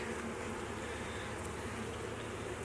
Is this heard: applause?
no